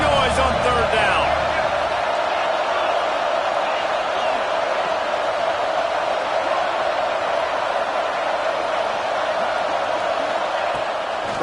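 A roaring stadium crowd in the College Football 26 video game, loud and constant on third down, a dense sustained wash of cheering with a brief thud near the start and a commentator talking over it.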